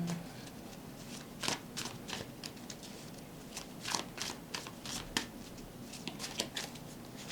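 Tarot cards shuffled by hand in a quiet room, giving soft irregular riffling and papery slaps in short bursts at close range.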